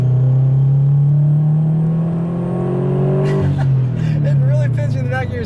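A turbocharged Scion FR-S with a PTuning exhaust and unequal length headers: loud, deep exhaust rumbles steadily up close, then the note shifts with crackles and pops as the revs change.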